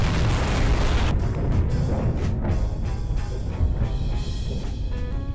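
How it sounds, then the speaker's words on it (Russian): A Tsar Bomba explosion in the game Garry's Mod, heard as a loud, sustained rumbling roar with scattered bursts and crackles that rolls on like a distant echo throughout, with no talking. "Вы слышите этот звук эхо взрыва вдалеке прям?"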